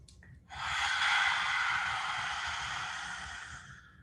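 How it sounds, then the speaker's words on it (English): A lion's breath in yoga cow pose: a brief faint sniff, then one sustained, forceful open-mouthed exhale, near and airy, fading out after about three and a half seconds. "Lion's breath, cow pose."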